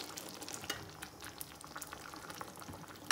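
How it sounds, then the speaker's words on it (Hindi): Half a cup of water goes into a pot of simmering chana dal with spinach, giving soft bubbling, stirring and faint sizzling at low level, with no talking. "तो यहाँ पर मैंने आधा कप पानी ऐड किया है।"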